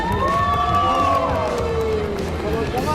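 A lively crowd cheers and shouts together at close range, voices overlapping in a loud, continuous roar.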